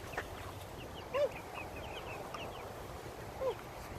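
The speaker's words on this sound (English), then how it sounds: "Come on, birds. Come on, birds." Chickens cluck around scattered feed on a farm, giving soft, scattered clucks with two brief louder calls over a quiet outdoor background.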